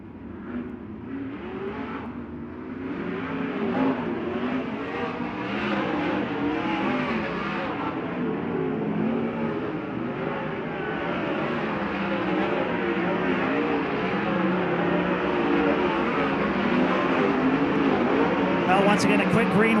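Kings of Thunder Wing 360 sprint cars on a hot lap session roar around the track in a dense, continuous engine drone that swells slightly, under a commentator's talk.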